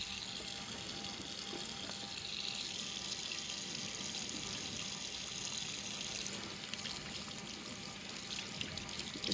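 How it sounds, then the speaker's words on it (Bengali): Hands washed under a running tap, a continuous quiet rush and splash of water, close and steady throughout with no talk. "হাতটা ধুয়ে আসি"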